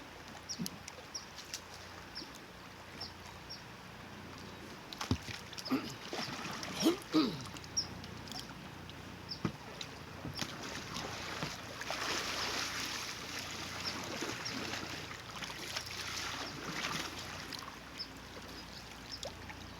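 Kayak rolling in water during a rear deck sweep roll, with sloshing splashes and a surge of churning water midway, fairly close, then gentler dripping and lapping; no talk.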